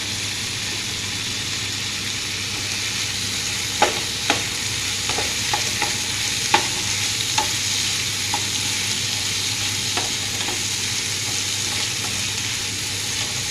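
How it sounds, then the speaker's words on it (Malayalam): Chopped tomatoes fry in a pan for masala dosa, a constant close sizzle broken by scattered light scrapes and taps as a spoon stirs them, with no talk. "ഒരു ചെറിയ 2 തക്കാളി കട്ട് ചെയ്ത് ഇട്ട് കൊടുക്കാം"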